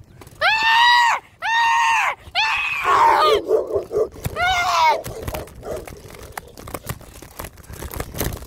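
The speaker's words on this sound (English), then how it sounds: "Oh my god, that dog." A dog barks loudly and close by, with two long clear barks followed by yelps and whines. Rustling and scuffling noise carries on behind the barking.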